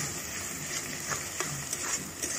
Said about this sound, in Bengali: একটু মশলাটাকে কষাবো। হালকা আছে ধীরে ধীরে কষাবো